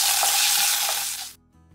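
Onions sautéing with ginger garlic paste and curry leaves in a pan for chana dal fry, a loud, close sizzle with stirring scrapes that cuts off abruptly, leaving a faint low hum.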